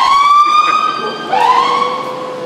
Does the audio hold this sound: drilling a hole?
no